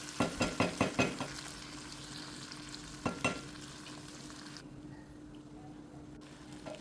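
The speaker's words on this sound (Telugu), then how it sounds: "దీంట్లో ఒక 1/2 స్పూన్ అండి అల్లం వెల్లుల్లి పేస్ట్ వేసాను. బాగా సిమ్లో పెట్టి కలుపుకుందాం." Ginger garlic paste frying in oil on a low flame for goat testicles fry, stirred with a spoon. A burst of rhythmic scraping strokes opens the clip, then a soft, steady sizzle with an occasional knock continues, with no voices.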